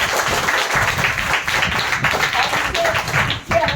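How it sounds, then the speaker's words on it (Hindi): Hostel children clap together for Saurabh in a brisk, dense round of applause. Voices talk over the clapping as it continues. "और सब इस सौरभ के लिए एक बार ताली बजाओ।"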